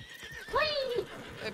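A horse in a role-play video game gives a single rising-then-falling whinny lasting about half a second, with faint hoof clopping and background game sounds around it.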